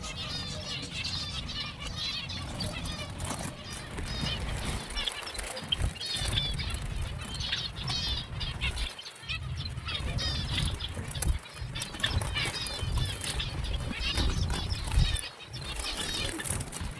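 Finch chicks in a large breeding cage on a finch farm chirp in busy, overlapping twitters, with bursts of wing flapping and a low background rumble. A voice may be faintly present underneath.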